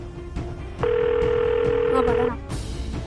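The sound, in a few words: telephone call dialing tone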